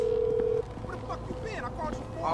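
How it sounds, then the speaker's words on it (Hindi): Phone call being dialed in a video game: a steady dial tone for about half a second, then in-game ringing and electronic call tones with chatter over them. "कॉल मिलाते हैं जरा सिमियन को"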